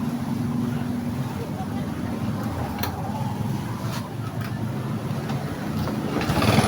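An engine catches and runs with a steady, fairly loud idling drone after a starter relay check, holding even throughout with a slight rise at the end.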